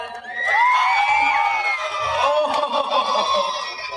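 An audience of children at a live singing show in Palakkad shouts and cheers in overlapping high voices, a loud burst of excited crowd noise with scattered claps.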